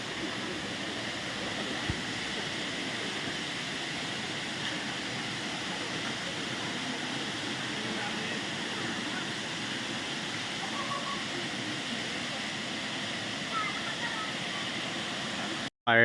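The fourth tier of Erawan Waterfall roars steadily and close by, a constant broad rush of falling water with no breaks until it abruptly ends.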